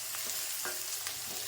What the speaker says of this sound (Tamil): எண்ணெயிலே போட்டு நல்லா வதக்கிடுங்க